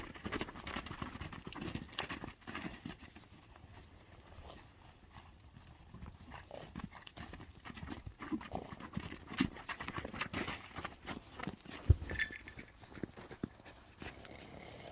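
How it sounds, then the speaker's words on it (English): A horse walks past on a farm, hooves clip-clopping in a steady uneven rhythm at moderate distance, with scattered outdoor rustle and a brief thump late on. "Here comes a horse."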